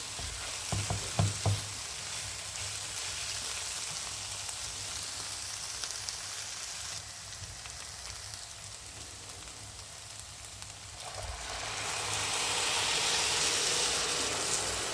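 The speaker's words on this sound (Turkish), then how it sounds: "Hemen suyunu ekleyeceğim." Water poured into a pan of frying vegetable bulgur pilaf: a few utensil clinks over a steady sizzle, which swells into a louder, broader hiss near the end.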